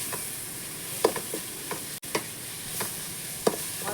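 Prawns sautéing in a pan with salt and turmeric, a faint steady sizzle broken by a few soft stirring clinks and scrapes, without any talk.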